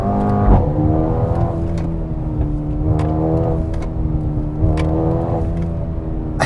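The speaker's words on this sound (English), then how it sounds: "downshift, hit me with some pop" A 2020 Mercedes-AMG A35 hot hatch with a four-cylinder engine revs and drops through downshifts, the close, loud engine tone sweeping up and down with sharp crackling exhaust pops scattered between the shifts.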